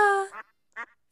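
A duck gives a close, clear quack followed after a short pause by a second brief quack, with silence around them.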